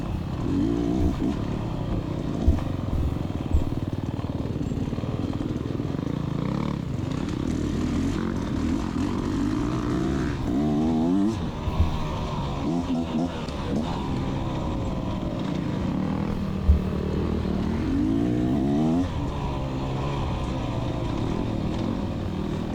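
A Beta Xtrainer 300 dirt bike rides through a wooded section of a women's hare scramble race, its engine droning steadily up close with rising and falling revs and occasional bumps.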